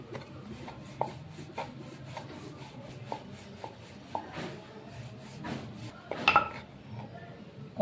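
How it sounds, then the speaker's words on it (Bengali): Aloo paratha dough being rolled out on a board: a steady series of soft wooden knocks and rubbing strokes, repeating roughly every half second, close and alone. "এবার একটা একটা করে বেলে নিচ্ছি।"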